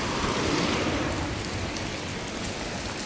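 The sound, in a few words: heavy rain while walking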